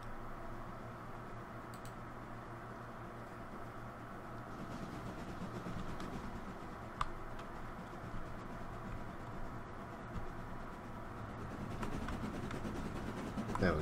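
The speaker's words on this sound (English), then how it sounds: "There's an LMS train in there." A British LMS steam train running in the Transport Fever 2 game, a steady low rolling rumble with faint clicks and ticks above it, holding at an even level with a brief sharp tick partway through.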